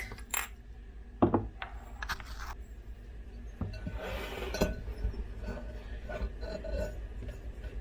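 Dry baking ingredients, including baking powder and salt, being combined in a bowl: a few clinks and taps of utensil on the bowl early, then a steady soft rustling stir, close and without talk.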